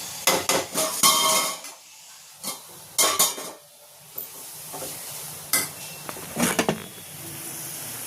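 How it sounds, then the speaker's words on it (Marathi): Coconut masala paste being stir-fried in oil for a spicy misal: close, intermittent bursts of a spatula scraping and clanking against the pan over a faint sizzle, with quiet gaps between strokes. "मसाला आपण जो खोबऱ्याचं वाटण घेतलंय ते चांगलं मिक्स करून तेलात परतून घ्यायचं"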